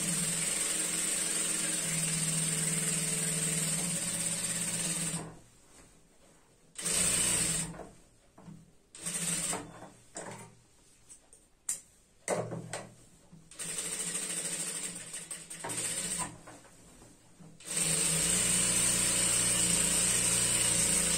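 A sewing machine stitches a semi Patiala salwar up close, running in loud repeated bursts of rapid mechanical chatter broken by short pauses, with no one talking.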